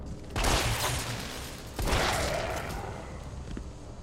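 Shotgun blasts in Resident Evil 3: two loud, close booming shots about a second and a half apart, each followed by a decaying rumble.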